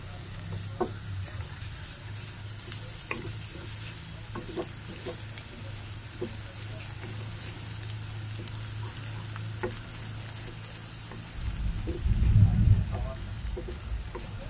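Garlic, then onions, sautéing in a pan for Filipino corned beef: a steady low frying hiss with occasional clicks of stirring, swelling louder for a moment near the end.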